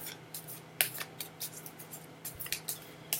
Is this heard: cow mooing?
no